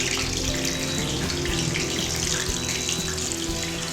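Chicken hitting hot frying oil for low country cooking, a dense, steady, loud hiss and crackle of bubbling oil that fills the whole clip, with no one speaking.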